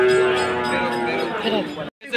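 A cow gives one long, loud, close moo at a busy cattle market in Gabtoli, Bangladesh, during the Qurbani season, with crowd noise underneath before it cuts off abruptly.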